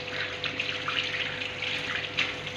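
Tap water runs steadily into a sink during handwashing, a continuous close splashing hiss with light fluctuations and no talk.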